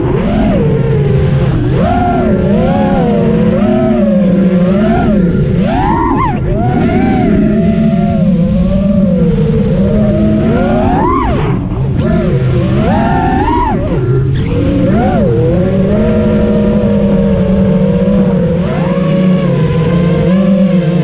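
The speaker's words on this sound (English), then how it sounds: "just enjoy my flying and listen to the sound of props and motors" An FPV drone on Gemfan 6042 propellers and 5S motors flies continuously, its loud, close, buzzing whine rising and falling in pitch as the throttle changes, with no talking over it.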